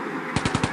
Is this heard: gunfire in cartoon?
yes